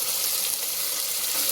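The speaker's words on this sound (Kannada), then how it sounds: "ಒಂದು 2 ಮಿನಿಟ್ಸ್ ಹಾಗೆ ಫ್ರೈ ಮಾಡ್ಕೊಳ್ಳೋಣ" Onions and ground masala paste frying in oil in a pan for chicken biryani, a dense, steady hiss of sizzling throughout the short stretch, close and fairly loud, with no talking.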